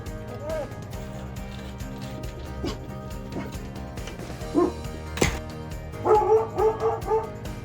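Household dogs barking and yipping at home, several sharp barks clustered near the end with a whimper, over a busy background of voices and clatter.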